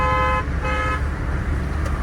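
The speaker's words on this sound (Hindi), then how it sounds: "बाइक वाले को हॉर्न मैंने इसलिए दिया ताकि वो बीच में ना घुस जाए।" Two short toots of a car horn, sounded from inside the car at a motorbike in city traffic, loud and close over a steady low engine and road rumble.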